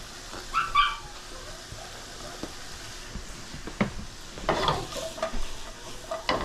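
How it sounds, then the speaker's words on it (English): Mushrooms sauté in a pot used earlier for ground pork, giving a soft sizzle with intermittent stirring and scraping. A dog whimpers and barks faintly in the background, and there is no speech. "we're gonna saute off the mushrooms in that same pot here"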